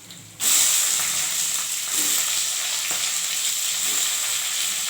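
Cauliflower, carrot and capsicum sauté in a hot pan for pulao, a steady bright sizzle starting abruptly after a brief quiet moment and holding evenly throughout, with faint stirring taps, no talking.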